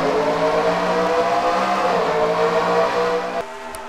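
Race car engines in a NASCAR racing video game, a steady loud droning whine of several cars at speed holding for several seconds before dropping off near the end, no voices.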